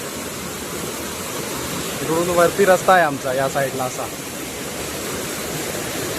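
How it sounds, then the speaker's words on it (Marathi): Water rushes down through a culvert beneath a village road near a waterfall, a steady broad roar that runs unbroken throughout while someone talks over it midway. "हे पाणी मोरीतून खाली येत आहे पाणी इकडे"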